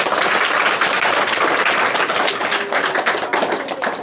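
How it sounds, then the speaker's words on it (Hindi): Children at an Independence Day celebration at an academy applaud together, a dense, loud wash of many hands clapping at once that runs steadily and thins slightly toward the end. "सभी बच्चे एक बार उनकी खुशी में एक बार तालियां बजाएंगे"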